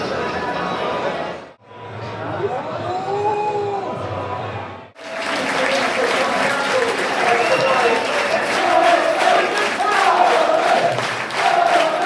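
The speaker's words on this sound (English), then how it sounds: "Dan Crowley gets a very good round of applause" Notts County football fans clap and cheer at the ground during an away match at Swindon, a sustained crowd roar and applause close to the mic with chatter running through it and a brief dip partway.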